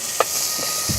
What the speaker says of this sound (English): We'll start off with frying some onions and garlic.